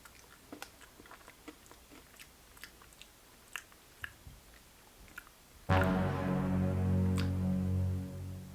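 Sharp, crisp bites and close chewing crunches on a quinoa crunch dark chocolate bar, irregular and fairly quiet, then broken off by a sudden loud burst of music.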